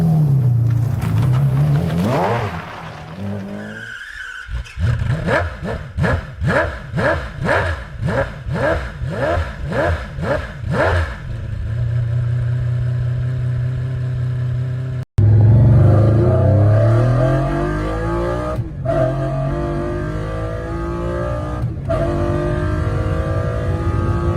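A BMW V12 engine revs loudly, climbing and dropping, then fires a rapid series of throttle blips before settling into a deep, roaring rumble.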